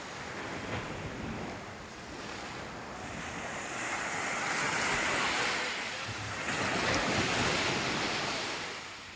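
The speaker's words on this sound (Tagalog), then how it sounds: "Talagang malaki po ang alon." Big ocean waves roll onto a beach where boats are being hauled up, with a continuous loud roar of surf and gusts of wind buffeting the microphone.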